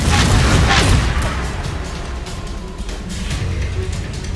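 A Confringo blasting spell explodes in a Hogwarts wizard-duel video game, a loud booming burst at the start that rolls into rumbling crackle and fading debris noise.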